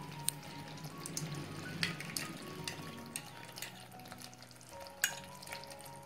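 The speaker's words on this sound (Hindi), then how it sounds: "एक बार मिक्स कर लेंगे इसे अच्छे से" Chicken Mughlai gravy with oil being stirred in a pan, a steady close sizzle with soft scraping and sloshing strokes throughout, no voices.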